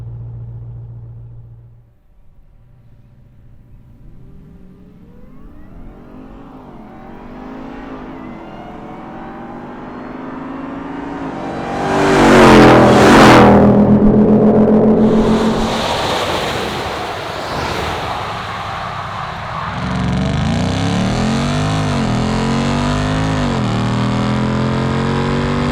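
A 702 hp Ram TRX and a 1012 hp Hennessey Mammoth 1000 on 35-inch off-road tires launching in a drag race, engines rumbling low, then a loud roaring rush that swells and sweeps past outdoors, with wind noise buffeting throughout.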